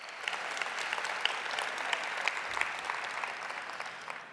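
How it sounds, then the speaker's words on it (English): Conference audience at a workplace inclusion forum applauding, a steady, moderately distant wash of many hands clapping with a few sharper individual claps standing out, no voices over it. "that's worth a round of applause"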